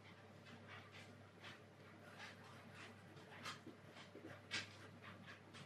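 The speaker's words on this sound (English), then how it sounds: "Don't mind my dog, she's just trying to find a comfy spot to sit" A female pet dog pants in soft, breathy bursts with faint whimpers as she shifts around looking for a comfortable spot, quiet and close in a still room.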